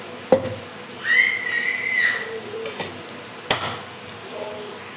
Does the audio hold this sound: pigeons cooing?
no